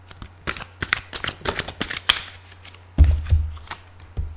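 Tarot-style oracle cards riffled and shuffled by hand in a quick series of crisp, papery bursts, ending in a louder flurry of close snapping cards.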